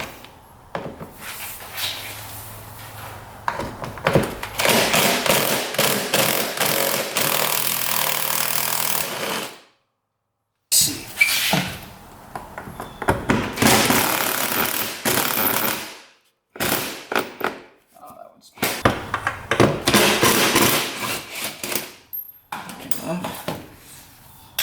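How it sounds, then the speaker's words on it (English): Footwell bolts on a plowing ATV being loosened with a power impact tool, loud close rattling bursts in several long runs separated by brief pauses, with a voice talking in between. "we gotta get these bolts off the footwell here"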